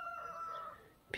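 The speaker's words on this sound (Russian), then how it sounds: "Петухи поют." A rooster crowing on a rural homestead on an overcast, rainy morning: one long drawn-out crow heard from a moderate distance, ending abruptly in a short sharp knock.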